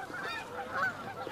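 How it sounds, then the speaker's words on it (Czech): Goose honking in a family fantasy film, a quick run of nasal honks close by, heard alone without talk. "Ale Nils určitě neukradl žádnou husu."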